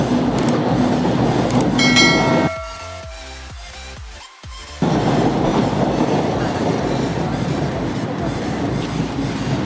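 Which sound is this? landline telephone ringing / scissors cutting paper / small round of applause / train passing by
train passing by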